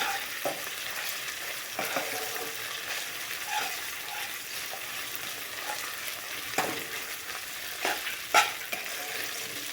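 Ginger garlic paste roasts in a pan for mushroom masala, a continuous frying hiss broken by several sharp clinks and scrapes of stirring, with a louder knock near the end.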